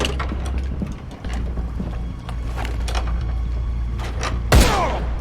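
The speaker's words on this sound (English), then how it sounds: "Hey, did you hear that gunshot over there?" A single loud gunshot cracks out near the end of a scene in the Beyond Two Souls video game, a sharp burst over a low, steady ambient hum with faint scattered background noises.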